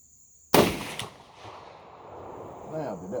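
A single sharp 45-70 rifle shot using a 300-grain load over IMR 4198 powder, loud and close, followed by a decaying outdoor echo and faint background sound.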